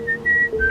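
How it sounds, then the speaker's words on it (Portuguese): Eerie whistling in a spoken Portuguese horror story: a thin, sustained tone rises in short held notes, clear and close over a quiet background, with no talk during it. "o assobio chegou perto e parecia vir do outro lado da porta de fora da sala"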